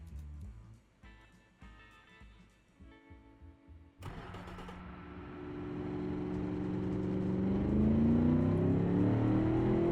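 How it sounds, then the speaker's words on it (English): A 1958-era car engine in the Automation video game starts on a test track, then revs and climbs steadily in pitch as it accelerates, growing louder and holding a strong, smooth roar. "Love the sound of that engine."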